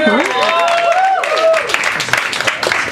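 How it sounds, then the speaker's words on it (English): A comedy club crowd gives a short burst of applause for comedians, clapping and cheering that tapers off as a voice speaks over it. "how about a nice round of applause for Rick"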